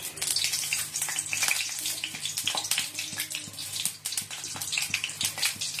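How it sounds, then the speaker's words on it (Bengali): Onion and green chili fry in a hot pan, giving a continuous loud sizzle and crackle with some bubbling and stirring noise throughout. "ডালটা তো ফোড়ন দেবো আর পেঁয়াজ লঙ্কা ভাজবো"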